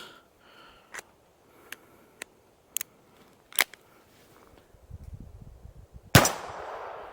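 A Charter Arms Target Pathfinder .22LR revolver gives a string of sharp metallic clicks as the cylinder closes and the hammer strikes, several isolated snaps spaced apart, ending in a louder crack followed by a hiss of noise.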